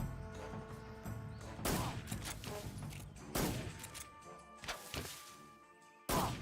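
Scattered shots from an enemy in Metal Gear Solid land as a handful of sharp, moderately loud cracks spaced a second or two apart over a low game background.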